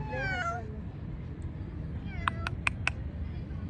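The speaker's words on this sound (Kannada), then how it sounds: "ಪಾರ್ಕಲ್ಲಿ ಜಾಸ್ತಿ ಬೆಕ್ಕು ನೋಡ್ಲಿಕ್ಕೆ ಸಿಗ್ತದೆ ಈ ಬೆಕ್ಕು ನೋಡಿ ಹೇಗಿದೆ ಅಂತೇಳಿ" A cat in a park gives one clear meow, then a few faint, short chirping sounds over steady low outdoor noise.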